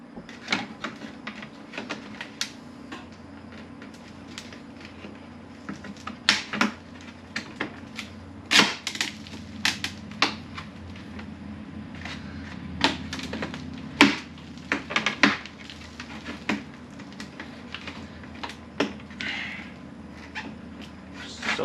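A broken ECS part being ripped out of an Audi B9 S4 during a carbon diffuser install: a scattered series of sharp plastic clicks, cracks and rattles, some louder snaps among quieter fiddling, with no talking.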